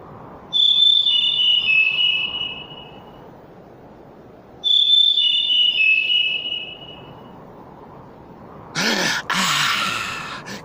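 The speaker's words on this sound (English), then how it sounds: "It is the sweet song of the Merula alba." Song of the rare Merula alba bird in the game Syberia 2: two clear, high whistled phrases, each a sustained note sliding slightly downward, separated by a pause, followed by a short burst of louder noise.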